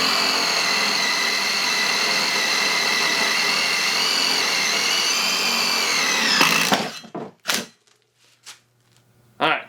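An electric drill fitted with a cheap bit whines steadily as it bores a hole, then cuts off abruptly and leaves a few short knocks and scrapes.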